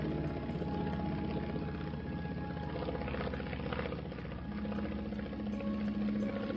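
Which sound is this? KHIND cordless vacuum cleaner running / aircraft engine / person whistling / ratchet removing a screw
aircraft engine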